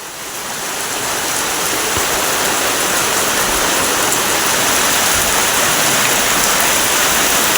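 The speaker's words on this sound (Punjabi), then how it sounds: "ਮੀਂਹ ਕਾਫੀ ਤੇਜ਼ ਪੈ ਰਿਹਾਗਾ" Heavy monsoon rain pours down in a Punjab village in a dense, loud, continuous roar, steady throughout with no voices.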